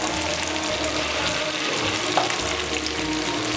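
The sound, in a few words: dahi bhalla lentil vadas frying in hot oil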